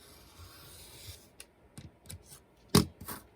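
Scissors cut paper for an ephemera holder in a few quiet snips and rustles, ending in one sharper, louder cut, with no talking.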